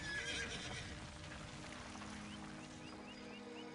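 Horse neighing in the video game Zeus & Poseidon, a single clear whinny over a steady bed of in-game ambience with faint clip-clop and chirping in the background.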